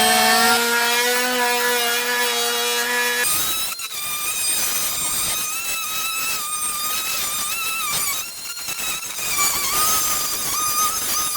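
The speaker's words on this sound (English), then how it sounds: "We are cutting a hole in the floor for the heater." A power saw cuts a hole through the metal floor of a Mercedes Metris van for a heater, a loud continuous whine with shifting harmonic tones after a brief steady opening.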